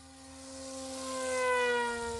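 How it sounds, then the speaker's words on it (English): An E-Flite Sukhoi Su-29 RC plane's propeller spins at full throttle on a 3S battery, giving a steady, loud, high-pitched electric whine and buzz that swells slightly and holds close by. "So this is full throttle right here."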